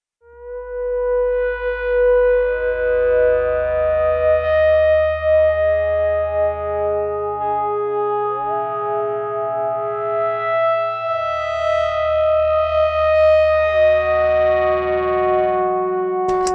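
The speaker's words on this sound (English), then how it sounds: "this is supposed to be like a bass sound, but I love this top end here." A distorted synthesizer bass tone slides between sustained notes, with a bright, buzzy, filtered upper edge. It plays loud and alone with no talking.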